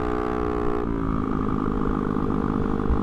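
A Honda Ruckus scooter engine with a broken exhaust idles with a loud, raspy, buzzing exhaust drone, steady and close, its pitch dropping slightly early on.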